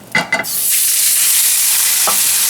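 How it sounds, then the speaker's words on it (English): A tomahawk steak hits hot avocado oil in a sauté pan, sending up a loud, steady broadband sizzle that begins just after a couple of brief clattering handling sounds and holds strong to the end, with one short knock partway through. "we're gonna sear it, okay, all around with the avocado oil"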